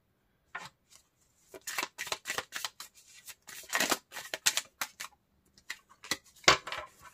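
Tarot cards being shuffled and drawn, a close-up series of crisp papery flicks, slaps and riffles in irregular bursts, with brief pauses between them and no talk.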